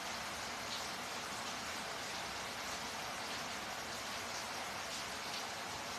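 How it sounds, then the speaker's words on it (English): Steady rain falling outside an open window, a dense even hiss with soft patter throughout, fairly quiet and continuous with no voices. "When I'm not talking, you can listen to the rain."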